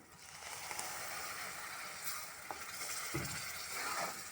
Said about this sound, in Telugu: సిమ్లో పెట్టుకొని కలుపుకోవాలి.